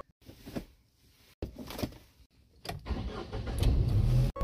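A car engine starts on a snowy mountain road near Manali: a door thump and some handling noises come first, then the engine cranks and catches into a steady low rumble close by.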